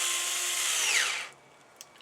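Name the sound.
power drill running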